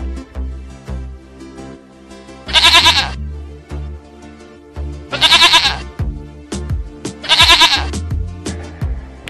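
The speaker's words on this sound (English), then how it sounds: "Goat." Three loud, wavering goat bleats, each about a second long, rise clearly out of a background of lower mixed sounds and thumps, spaced a couple of seconds apart.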